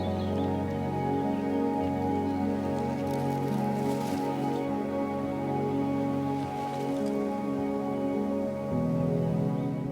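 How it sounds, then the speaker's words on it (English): Rain falls outdoors in Slovakia during a bikepacking trip, a steady, soft patter of drops spread across surfaces, heard over a constant low background hum for the full stretch. "It's raining now."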